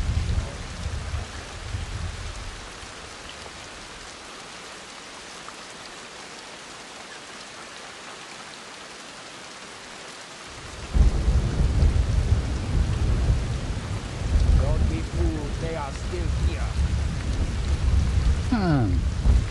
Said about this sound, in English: I do not mind the rain.